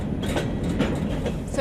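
A freight train rolls along, carrying a crowd of migrants riding on its roof in the heat, with a loud, steady rumble and rattle of wagons heard from up close, and faint voices mixed in.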